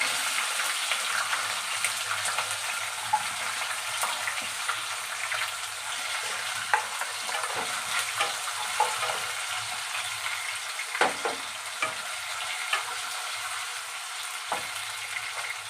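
Potatoes fry in a pan with a soft, steady sizzle, broken now and then by the scrape and clatter of stirring, and no one speaks.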